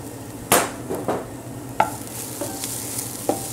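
Garlic stirred into a pan of cooked onions for paella, with a soft steady sizzle under a few sharp scraping stir strokes, close and moderately loud, no voices.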